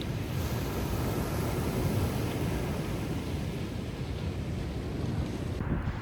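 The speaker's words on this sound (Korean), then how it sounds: "영상 보시는 분들도 오랜만에 잠시 파도 소리를 즐겨보시면 좋겠습니다" Ocean waves wash steadily onto a seashore on a clearing day, a continuous broadband roar with wind buffeting the microphone throughout, no voices.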